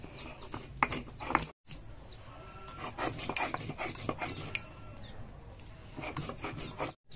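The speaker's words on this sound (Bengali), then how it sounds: "এটা হলো সাদা গোলমরিচ, জয়ফল, জয়স্ত্রী, আর একটু আমি বেটে নেব।" White pepper, nutmeg and mace being ground by hand for kacchi biryani, a steady rough rasping and scraping that runs continuously with brief pauses, close and moderately loud.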